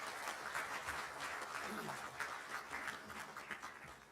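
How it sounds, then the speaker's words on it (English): A conference crowd applauds steadily, dense clapping filling the room throughout at a moderate distance. "Please give a huge round of applause to our guest of honor, Shri Nilesh Sathe sir."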